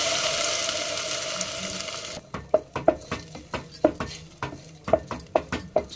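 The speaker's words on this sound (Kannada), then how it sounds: "ಅದಕ್ಕೆ ನುಣ್ಣಗೆ ರುಬ್ಬಿರುವಂಥ ಮಸಾಲೆ ಹಾಕಿ ಚೆನ್ನಾಗಿ ಫ್ರೈ ಮಾಡ್ತೀನಿ" Finely ground masala frying with onions in a pan for a fish curry: a steady bright sizzle for about two seconds, then quieter frying broken by a run of sharp, regular scraping and stirring knocks from a utensil against the pan.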